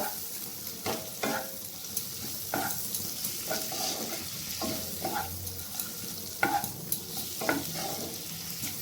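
Chopped tomatoes frying in a pan over low heat for a chicken dish, with steady close sizzling broken by repeated scraping stir strokes and a few utensil knocks, no voices.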